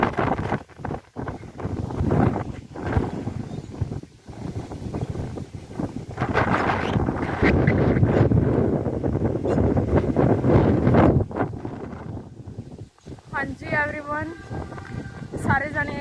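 Strong gusting wind blusters across the microphone on a rainy, stormy day, a loud broadband roar rising and falling throughout, with brief quieter gaps and a few faint chirping calls near the end.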